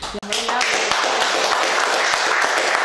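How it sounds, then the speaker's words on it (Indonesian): Audience applause at the close of an Indonesian army podcast, a steady dense wash of clapping that runs for about three seconds after a short voice at the start. "Kita beri tepuk tangan."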